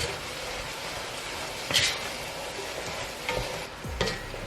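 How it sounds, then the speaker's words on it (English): A spoon stirs drained, rinsed red beans in a pot for red beans and rice with andouille sausage, giving a soft background hiss broken by a few distinct knocks and scrapes against the pot, close and fairly quiet. "Give that a stir."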